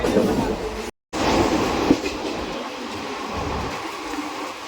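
Inside a moving train in Mumbai, a steady, loud rumble of wheels and carriages rolls on with faint clattering and a brief dropout near the start.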